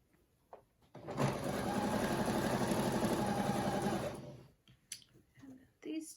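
A sewing machine stitches scrappy granny square quilt blocks together in one steady, fast-running burst of about three seconds, close and fairly loud, with quiet handling clicks before and after.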